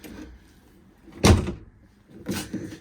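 The door of a Lotus Elan being restored clicks and thumps as it opens, two distinct mechanical bursts in a quiet garage with no talking.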